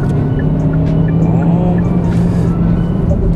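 Kia Ceed engine pulling hard in third gear, a loud continuous drone with a steady low hum and rising harmonic sweeps as revs climb, heard from inside the car with no talk.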